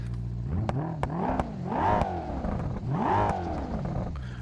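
A car engine in BeamNG.Drive, a build with a Bullite engine and sequential gearbox, revs up and drops twice in rising and falling sweeps, loud and close, with clattering mechanical ticks between pulls.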